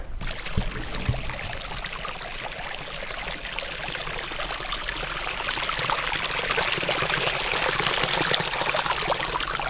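A mountain stream beside a grassy meadow in the hills near Big Almaty Lake rushes and trickles steadily, close and continuous, growing slightly louder toward the end, with no voices.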